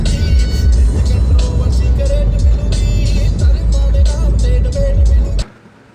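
Car driven fast along a road near Satara, loud steady engine roar and road rumble with music playing inside the cabin, cutting off abruptly near the end.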